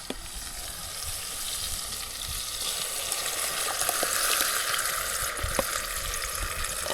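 Onion, tomato paste and green chili sizzle and fry in a pan over a wood-fired clay stove (chulha), a steady continuous crackle with occasional faint stirring clicks, close and moderately loud, no talking.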